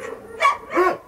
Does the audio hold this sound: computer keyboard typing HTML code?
no